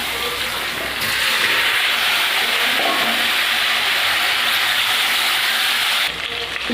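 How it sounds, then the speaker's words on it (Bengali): Potato and green plantain sizzle in hot oil in a pan, a loud, steady frying hiss that holds evenly for several seconds before easing slightly at the end. "আলু কলাটাকে ভালো করে ভেজে নেব।"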